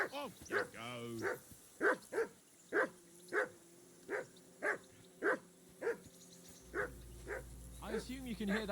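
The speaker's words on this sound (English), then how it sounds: "I assume you can hear that damn dog of yours barking." In Kingdom Come: Deliverance II, a dog barks repeatedly in a steady rhythm, roughly a dozen sharp barks at mid distance, with brief voices at the start and near the end.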